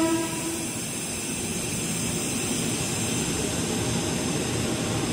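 A JR 205 series commuter train bound for Cikarang rumbles steadily into a station, a loud continuous roar of wheels and carriages with a brief horn-like tone near the start.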